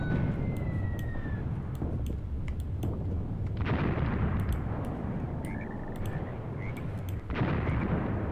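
Heavy artillery fire pounds across a WW2 Eastern Front battlefield in a war game, deep rumbling blasts rolling one into another with sharp gunshot cracks and whistling shells on top, loud and continuous without speech.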